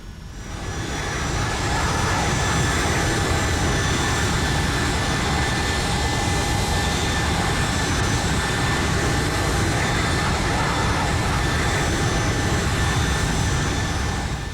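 Boeing 757 jet engines spool up for takeoff in the X-Plane 11 flight simulator, a steady loud roar with a rising whine that builds in the first second, then holds constant with no voices.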